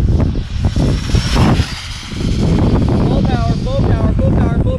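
A Wltoys A959-B RC car running at full power on a 2s LiPo, a loud, rough whine with strong wind buffeting, and voices talking over it.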